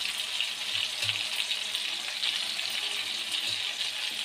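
Tomato pieces fry in a hot pan for a tomato chili chutney, giving a steady, even sizzle and crackle throughout, close by and with no talking.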